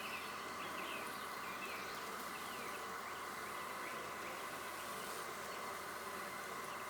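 Dense, steady insect buzzing fills the space, a constant hum of many honey bees close by during a hive inspection, with no pauses or voices.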